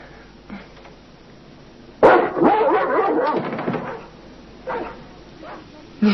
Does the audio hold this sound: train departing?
no